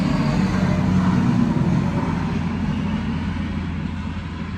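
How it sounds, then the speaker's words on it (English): A truck passes on the road, its loud, low engine rumble swelling briefly and then slowly fading away as it moves off, with no voices. "There goes the truck."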